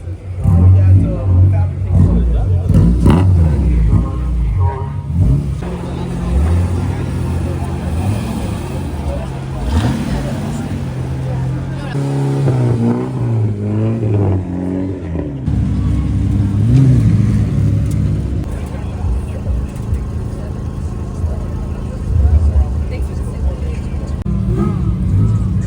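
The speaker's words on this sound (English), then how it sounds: "This one's supercharged if you hear the whine." A supercharged kei car engine revs repeatedly, rising and falling close by with a continuous mechanical drone, while people talk over it throughout.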